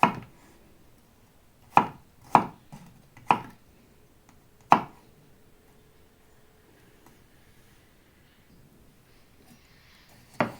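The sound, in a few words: knife chopping cucumber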